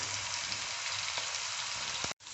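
Jackfruit seed chips deep frying in oil give a steady, dense sizzle and bubbling hiss that continues throughout, briefly cutting out near the end.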